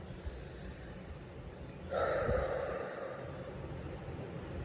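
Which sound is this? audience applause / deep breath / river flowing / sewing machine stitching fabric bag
deep breath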